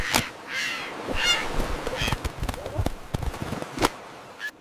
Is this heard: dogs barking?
no